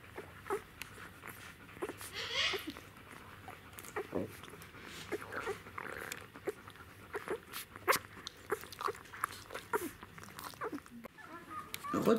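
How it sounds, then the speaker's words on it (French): Three-day-old Czechoslovakian wolfdog puppies nurse with faint, wet sucking and swallowing clicks in an irregular patter. Soft whimpers and shuffling come from close by in a quiet room. "Si vous écoutez bien, en fait, vous allez entendre déglutir."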